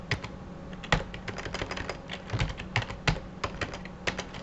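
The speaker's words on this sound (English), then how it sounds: "now I could type in another person's name" Rapid, uneven clicking of keys on a computer keyboard as a name is typed, close and fairly quiet, with a few louder taps and no talking.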